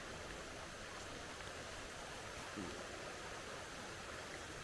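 A creek flows in a constant rushing hiss, steady and fairly faint, with no talking over it.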